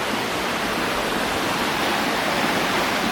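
A waterfall swollen after two days of rain, a loud, steady, broadband roar of rushing water with no breaks, close by.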